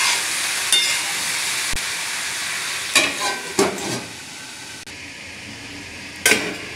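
Mixed vegetable sabzi cooking in a pan, a continuous close sizzle broken by several brief scraping stirs and a late clatter, no talking.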